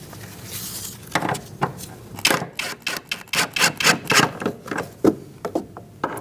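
Bolts being started and snugged on a rear shock mount of a 2016-2019 Chevrolet Cruze, heard as a run of sharp, close metallic clicks and ratchet-like taps in quick irregular bursts.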